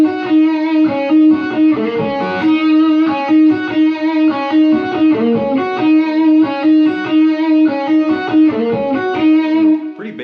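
A distorted electric guitar plays a steady, fast run of picked notes with effects, loud and continuous throughout.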